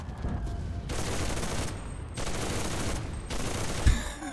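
An MG30 machine gun fires in long rapid bursts in the video game Enlisted, loud and close, with three sustained volleys separated by brief pauses.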